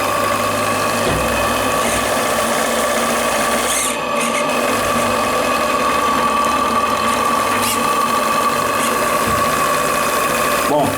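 Live-steam model launch engine with Stephenson valve gear running in reverse at medium speed, giving a steady mechanical clatter and ticking with a faint whine over continuous running noise, close by.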